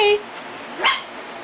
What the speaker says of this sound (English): who's barking? Who's barking?